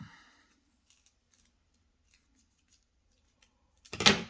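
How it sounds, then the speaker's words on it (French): Scissors make one quick, sharp snip through material for a truck phone holder near the end, after near silence broken only by faint small clicks. "Je vais le couper comme ça."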